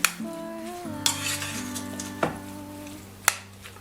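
Strips of beef for curry frying in a pan, a quiet steady sizzle broken by a few sharp utensil clinks and stirring knocks, with no one speaking.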